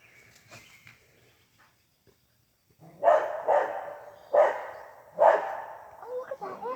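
A dog being chased off by a deer outdoors, barking in a run of four loud, close, evenly spaced barks after a quieter stretch, with faint voices nearby.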